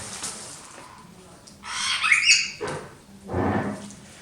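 Several harsh parrot squawks in separate bursts, fairly close, over a quiet background.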